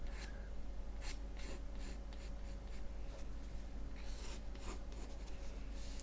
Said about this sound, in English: draw in a little bit of the body here